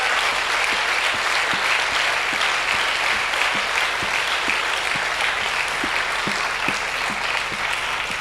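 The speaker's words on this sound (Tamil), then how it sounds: "frapper des mains pour le Seigneur" A church congregation at a Tamil Christian service claps hands together for the Lord, a continuous wash of steady applause at moderate distance with no voices over it.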